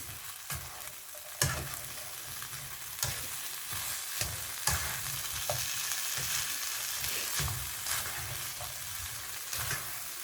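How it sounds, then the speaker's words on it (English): Fried beef being stir fried for beef chilli in a pan sizzles continuously, with repeated scraping and clacking strokes of a utensil against the pan at an irregular rhythm, fairly quiet. "Add the fried beef. Stir fry for 1 to 2 minutes."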